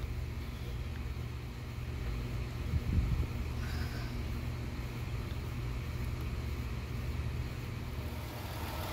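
Engine of a 2001–2010 Chrysler Town & Country or Dodge Grand Caravan running after a fresh ignition coil pack, a steady close idle drone with no clear start crank, continuous throughout.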